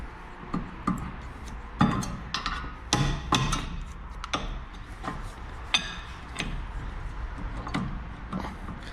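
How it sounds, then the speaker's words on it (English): Work on the rear wheel of an Opel Meriva while a brake caliper is fitted brings irregular metallic knocks, taps and clinks, close by and fairly quiet. "And now I can install the brake caliper."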